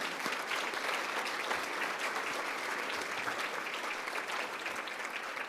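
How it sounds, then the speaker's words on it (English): Audience at a charity gala applauding the table hosts, a steady, dense wash of many hands clapping close and loud throughout, with no talk over it. "So let's give these people a clap for the work they have enabled us to do."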